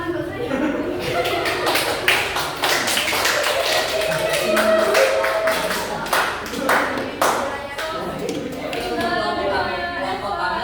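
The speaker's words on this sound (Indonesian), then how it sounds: "Tepuk tangan buat saya." Applause in a classroom during a microteaching lesson on momentum, a burst of many hands clapping in irregular rhythm with chatter and a few chuckles mixed in, fading out toward the end.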